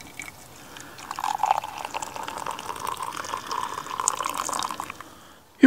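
Freshly made coffee poured in a jungle camp setting, a steady liquid stream with gurgling that runs for several seconds, loud and close, then tapers off at the end, with no speech.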